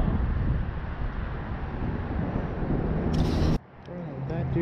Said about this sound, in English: The wind is just bad today.